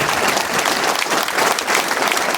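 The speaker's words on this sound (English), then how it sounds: "Let's have a round of applause for them." Loud, dense audience applause at a comedy roast, a steady wash of clapping hands filling the room without a break and with no talking on top.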